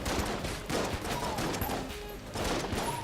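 Sawed-off shotgun fire in a video game: dense, continuous rounds of close blasts with a few heavier peaks, steady and loud throughout.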